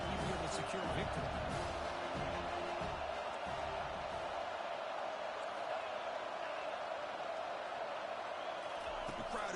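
In EA Sports College Football 25, a stadium crowd roars steadily at a distance during a fourth-down defensive stand, a broad continuous rumble under a game commentator's voice.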